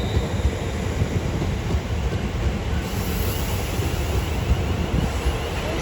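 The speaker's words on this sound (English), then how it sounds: "The train now approaching platform 4 does not stop here." A heavily loaded Freightliner Class 66 freight train passing through Milton Keynes Central station on the WCML, a loud, steady, close rumble with wind buffeting the microphone throughout.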